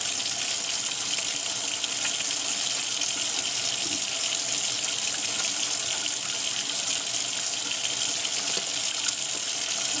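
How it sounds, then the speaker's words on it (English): Running tap water splashing steadily over a hand as it is rinsed at a sink, a continuous close hiss with no pauses. "I'm going to completely rinse my other hand off"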